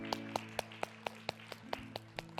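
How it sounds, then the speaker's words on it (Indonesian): An audience claps in a slow, even rhythm, about ten sharp claps spaced roughly a quarter second apart, heard alone over a low steady hum during a comedy stage show. "Tepuk tangan."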